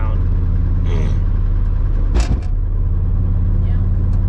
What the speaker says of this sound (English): With the Remus on the car now, it has a more like R32 kind of sound